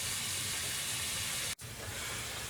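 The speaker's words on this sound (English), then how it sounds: "spring onions and mushrooms. we just let that fry up for a while." Chopped spring onions and mushrooms frying in a pan in a small sailboat galley, a steady broad sizzling hiss, briefly cut by a short gap before resuming.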